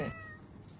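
A cat lets out a single short meow close by, followed by quiet room noise.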